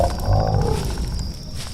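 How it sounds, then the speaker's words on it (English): A wild animal's deep growl with a clicking edge, heard as a sustained rumbling snarl close by for the whole stretch, with no voices. "It was like a clicking, growling type of noise."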